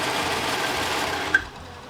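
A serger overlocker sewing machine runs steadily, stitching a lettuce hem with a fast, even mechanical whir, then stops with a small click and falls quiet.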